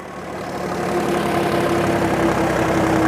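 Mahindra 265 tractor pulling a 10-foot rotavator, its diesel engine held at high revs in a steady, loud, close drone with a constant tonal hum and no voices.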